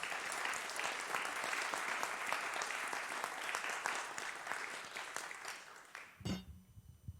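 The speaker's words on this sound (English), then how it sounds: "So can we have a round of applause for everyone?" A congregation at a Sunday church service gives a dense round of applause that carries steadily, tapers off and stops abruptly near the end, followed by a short low thump.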